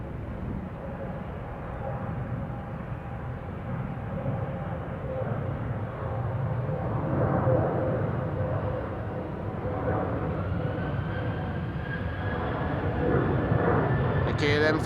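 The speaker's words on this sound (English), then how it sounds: "KLM flight 1199 to Oslo is also spooling up over here in the foreground. That's a 737-700." A KLM Boeing 737-700 bound for Oslo spools up its engines in the foreground at Amsterdam Schiphol, a rising turbine whine over a steady roar that swells toward the end, with a person talking over it.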